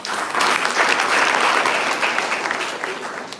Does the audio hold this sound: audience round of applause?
yes